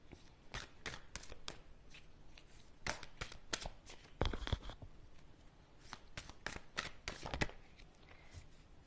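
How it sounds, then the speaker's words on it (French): Oracle message cards being shuffled and drawn by hand: a string of quick, crisp riffles and snaps at close range, coming in irregular clusters against an otherwise quiet background. "on va commencer tout de suite par tirer cette carte message"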